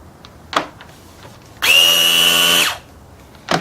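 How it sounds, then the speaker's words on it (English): An electric sander running on an 18-volt Milwaukee battery whirs in a single steady burst of about one second, loud and close, between a few faint clicks of handling. "Electric sander, battery powered sander, hooked up to Milwaukee battery, 18 volt."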